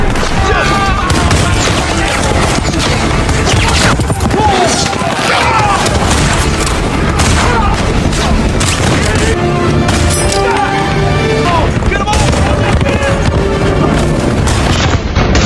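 Dense battle din from a western film, with repeated booming dynamite explosions and bursts of gunfire, loud and continuous throughout under a busy score.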